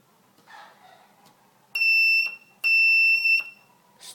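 An electronic buzzer in a transistor circuit sounds when a button is pushed, giving two loud, shrill, steady tones of under a second each, separated by a short gap, after a faint click.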